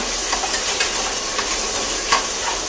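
A mixture is stirred in a pan over heat while it sizzles with a constant hiss, with a few soft scraping strokes and a clink at the end, no talk.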